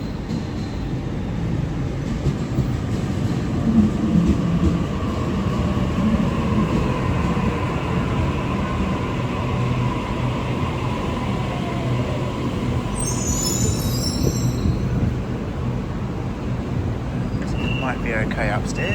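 A Sydney Trains A-set train rumbles into Central station with a steady low roar and squealing wheels, brakes hissing near the end, while people talk over the noise.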